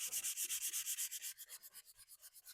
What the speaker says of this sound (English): What I'll do is just sand that